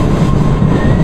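A Red Line subway train runs through a tunnel, a loud, dense rumble and rattle filling the whole second with no pause.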